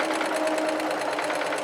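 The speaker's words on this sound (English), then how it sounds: "I'm going to go ahead and sew this all the way around again." A sewing machine stitching around a fabric face mask, its needle chattering in a fast, even rhythm throughout, close and steady with no voices.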